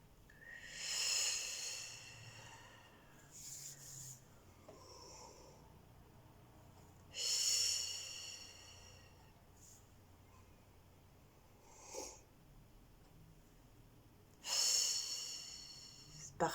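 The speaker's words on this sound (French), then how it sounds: "On retient sa respiration 1, 2 ou 3 secondes en fonction des possibilités et puis on expulse." Slow deep-breathing exercise with three loud, airy breaths at regular intervals, each a long inhale or exhale separated by quieter pauses and a few softer breaths, close to the listener.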